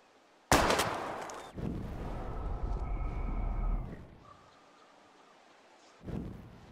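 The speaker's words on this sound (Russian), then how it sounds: "Сначала нужно выстрелить." A gunshot in Life is Strange fires with a sudden loud crack and a long rumbling tail, followed a few seconds later by a second, quieter report; no voices.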